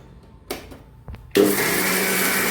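A few light knocks come first, then an electric mixer grinder starts abruptly and runs with a loud, steady whir as it grinds dried prawn and coconut chutney.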